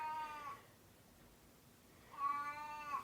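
A cat in the 1982 film Poltergeist gives two drawn-out meows, one at the start and one at the end, separated by a quiet pause.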